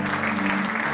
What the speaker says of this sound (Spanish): ¿Cuántos le dan palmas a Dios?